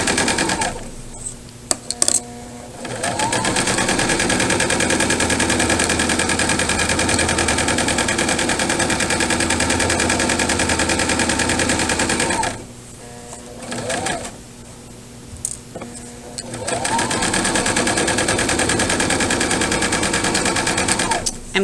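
A sewing machine stitches pillowcase fabric in long, loud, steady runs of fast mechanical rattling. The runs stop briefly partway through, with a few clicks in the pauses, then start again.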